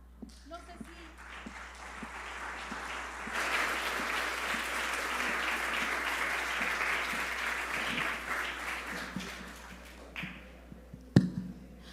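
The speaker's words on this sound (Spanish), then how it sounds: "Brindemos un fuerte aplauso al doctor en Salud Pública Eric Azamar." Conference audience applauds a public health doctor after his talk at a university research event, a steady wash of clapping that swells around four seconds, holds, then fades near ten seconds with a sharp knock near the end.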